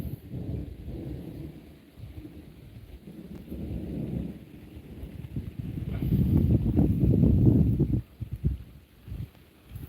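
Thunder rumbles from a nearby thunderstorm outdoors by the water, a low rolling swell that builds and peaks before breaking off, heard alone with wind noise.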